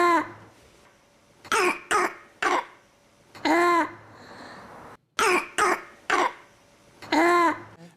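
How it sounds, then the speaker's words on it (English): Harsh, croupy, barking coughs from a person with a viral illness come in two clusters of three to four sharp bursts, each followed by a raspy drawn breath, close and loud against a quiet background. "kind of barky cough"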